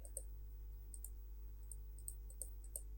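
Computer mouse clicks during photo editing in an online image editor, a scattering of sharp, quiet clicks, some in quick pairs, over a steady low hum with no talking.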